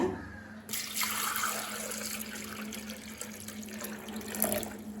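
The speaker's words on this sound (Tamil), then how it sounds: "இப்போ 2 டம்ளர் தண்ணி சேர்த்துக்கலாங்க." Two tumblers of water are poured into lemon mint juice, making a steady, close splashing stream for about five seconds with a brief burst near the end; no voices.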